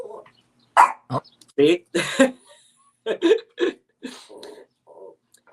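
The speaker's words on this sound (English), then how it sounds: "Pomeranian does not stop barking for anything other than me telling them to stop barking, and then they bark back." A small Pomeranian dog barks in a string of short, sharp yaps with pauses between, close by indoors, while a person speaks briefly.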